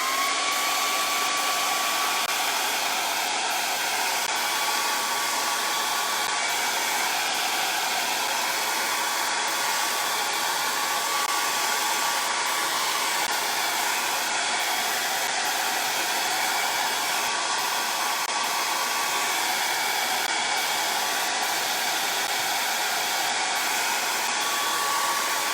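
A hair dryer blowing steadily on wet paint on a Christmas-tree-shaped craft board, a loud continuous close whoosh with an even whine that never stops.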